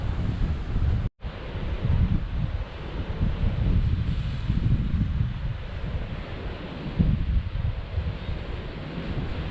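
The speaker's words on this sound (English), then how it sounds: "off the ocean and the waves crashing here" Heavy surf crashes along the rocky coast of Aruba in a steady, loud roar, with strong wind buffeting the microphone throughout and a brief dropout near the start.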